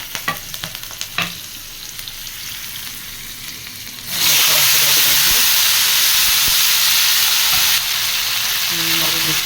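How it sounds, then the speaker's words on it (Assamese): Spice paste hitting a hot kadai bursts into a loud, steady sizzle partway through, after quieter scraping and clinks, and keeps hissing strongly to the end. "ইয়াতে কেৰাহী গৰম দিছোঁ। এয়া লেচেৰাখিনি ভাজি বনাম।"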